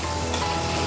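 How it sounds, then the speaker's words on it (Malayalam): Chilli potatoes sizzle in hot oil during their second frying, a dense, even, close-up crackle that carries steadily through the moment without any talk. "ഇത് ഈ ചൂടായ എണ്ണയിൽ തന്നെ എല്ലാം കൂടി ഒന്നിച്ച് ഇട്ടിട്ട് വീണ്ടും ഒന്ന് ഫ്രൈ ചെയ്യാൻ പോകും"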